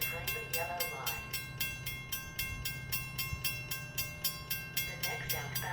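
An outbound train passes through a station without stopping, its wheels beating out a fast, regular clatter over the rail joints, loud and close throughout the pass.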